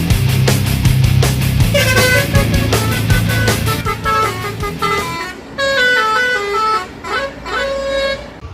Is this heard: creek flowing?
no